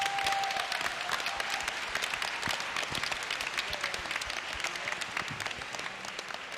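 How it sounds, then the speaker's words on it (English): A convention crowd at BronyCon 2012 claps for composer Daniel Ingram during a musicians panel, dense sustained applause at moderate level from a large audience. "a round of applause for Daniel Ingram and what he's done with the show"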